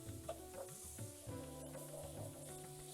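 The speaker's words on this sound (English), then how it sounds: "we're going to add our garlic. In it goes. All right, get the garlic mixed in." Garlic sizzling in a hot pan while being stirred for pork egg roll filling, a steady close crackle with soft scraping stir strokes, quiet and without talk.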